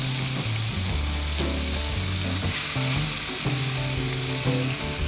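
Seasoned fish blackens in hot grease outdoors, a loud, steady crackling sizzle with spitting pops running throughout, no voices.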